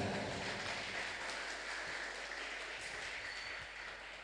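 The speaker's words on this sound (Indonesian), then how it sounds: "Tepuk tangan untuk kita semuanya." Steady applause from a crowd at an Islamic boarding school gathering, continuous and fairly soft, as if heard from some distance in a large room.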